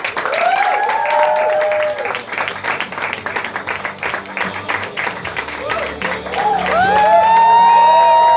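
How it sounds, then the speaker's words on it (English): Audience at a Bon Jovi press conference in Kuala Lumpur, with loud sustained applause, cheering and whistles from a crowd, and voices over the clapping. "Everybody, please give a rounding applause for the group Bon Jovi."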